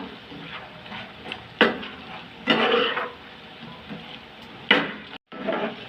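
Gobi manchurian being stirred and mixed in a pan with a spoon: soft scraping and tossing, punctuated by three sharper clanks against the pan, with a faint sizzle underneath and a brief dropout near the end.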